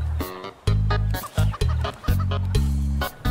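Chicken clucking in the survival game Raft, a series of short, punchy clucks in irregular bursts, close and fairly loud, with no talking over them.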